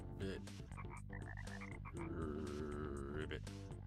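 A frog croaks in the video game Chibi-Robo, its calls blending with bright melodic game tones throughout, loud and close with no talking.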